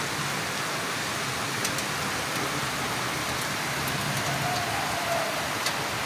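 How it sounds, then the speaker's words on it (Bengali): Heavy rain pouring down outdoors in a dense, unbroken roar of drops, loud and steady throughout with no voices. "আসলে অনেক জোরে বৃষ্টি পড়ছে।"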